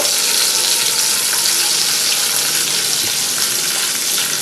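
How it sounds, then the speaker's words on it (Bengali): Cashews and raisins fry in a hot pan with a loud, dense, continuous sizzle that stays close and unbroken throughout. "মিনিট খানেক ভালো করে কাজু কিশমিশটা একটু ভেজে নেব"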